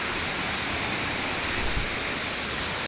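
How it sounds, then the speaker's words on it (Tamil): Rushing water from a waterfall running high with plenty of flow, a dense, steady roar that fills the scene close by, with no voices over it. "இந்த வாட்டி தண்ணி நிறையா போகுது. சத்தம் கேட்குதா உங்களுக்கு?"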